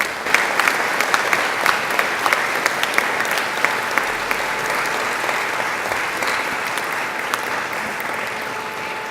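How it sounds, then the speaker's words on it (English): A graduation audience at Macquarie University claps in a long, sustained round of applause, dense and steady for the whole stretch, with no talk over it. "And now I invite you to give them a mighty round of applause."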